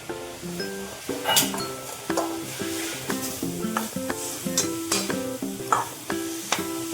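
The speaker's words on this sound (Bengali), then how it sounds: "এই নারকেল কোড়াটা আমি এখানে গুড় দিয়ে আসিয়ে নেব" Grated coconut cooking with jaggery in a pan: a soft sizzle under repeated rhythmic clinks and scrapes of a utensil against the pan, with a faint tonal ringing sound in the background.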